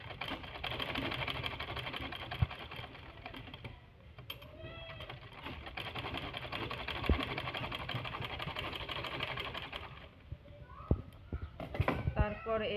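Sewing machine running steadily while double stitching a blouse latkan, a fast rattling drone that pauses near the middle and stops toward the end, with a voice speaking over it.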